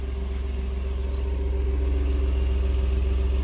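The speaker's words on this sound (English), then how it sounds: "Now this is a warm start." A 2019 Ford F-150 XLT's 2.7-liter twin-turbo engine idles after a warm start, a steady, close, continuous low rumble with a smooth even hum and no talking.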